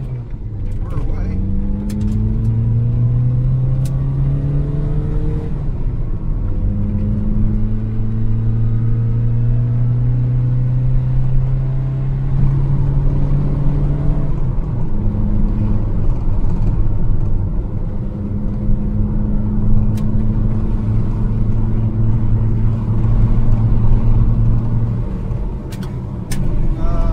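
Zastava Yugo 55A car pulling away in first gear on a road, its engine note rising in steady revving sweeps, up-shifting and climbing again, loud and close throughout with a voice talking over it.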